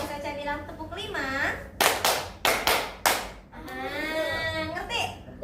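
Sharp hand claps in a short counted pattern, sounding like a classroom of children clapping together between stretches of an adult teacher's voice and children speaking.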